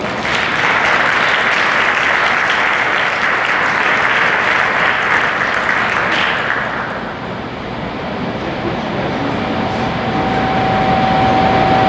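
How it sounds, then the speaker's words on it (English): Audience applause for a keynote speaker at a women's leadership symposium, loud sustained clapping filling the hall for about six seconds before thinning out into quieter scattered claps. "Please join me in a round of applause for our keynote speaker, Pam Horton."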